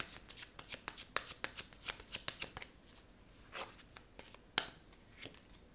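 Tarot cards are shuffled by hand in quick, soft riffling bursts that come close together, followed by a few slower, separate slaps and flicks, quiet and close.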